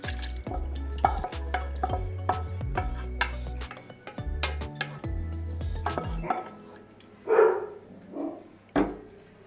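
Fried and stewed vegetables going into the bottom of a cooking pot for Bavarian-style pork knuckle, with repeated clanking of a spoon against metal, scraping and clattering of cookware, followed by a few softer knocks.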